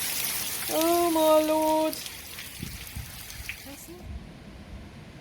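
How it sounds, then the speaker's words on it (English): Hail and rainwater pour down outdoors in changeable Haute-Vienne weather, a steady bright hiss that fades out near the end, while a voice briefly exclaims over it. "It's hailing now."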